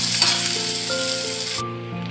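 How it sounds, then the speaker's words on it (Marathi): Onion fries with cumin and curry leaves in a pan for kanda pohe, a loud, dense, close sizzle that holds steady throughout and changes tone slightly near the end. "कढीपत्ता त्यामध्ये घालूया कांदा कांदा सोनेरी होईपर्यंत परतून घेऊया"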